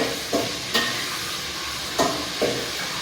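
Beef is stir-fried in a pan: a loud, steady sizzle and hiss, broken by several sharp scraping strokes of a spatula against the metal, with no voices.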